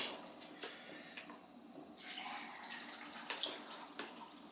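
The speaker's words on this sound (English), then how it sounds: "I'm just gonna put 2 cans of water in." Water poured from cans into a soup pot in a garage kitchen, a faint steady splashing and trickle with a few small knocks, heard alone at low level.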